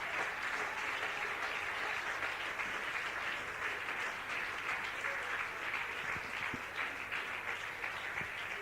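A church congregation applauds during a sermon, a steady, faint wash of clapping that holds evenly for several seconds with no voice over it.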